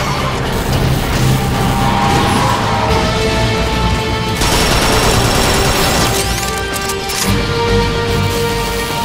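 Heavy suppressing gunfire in the Transformers: Fall of Cybertron video game, sustained loud bursts of automatic weapons with crashes and booms, dense and continuous throughout.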